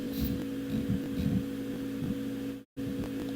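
CNC router cutting out a tube jig, a steady droning machine hum with low throbbing pulses that holds constant throughout, briefly cutting out near the end.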